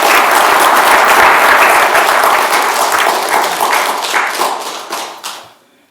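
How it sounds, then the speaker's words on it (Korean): Vigorous applause fills a council plenary session hall, many hands clapping loudly and densely for several seconds before thinning and fading out toward the end. "힘찬 박수로 격려해 주시기 바랍니다."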